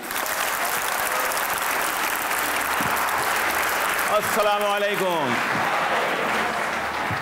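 A studio audience on a Pakistani comedy show applauds steadily as a guest poet walks on, the dense clapping sustained throughout while a man briefly offers a greeting over it.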